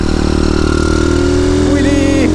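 Tiny road-legal Masai motorcycle with no baffle in the exhaust runs at a steady close idle. A voice may speak briefly over the engine near the end.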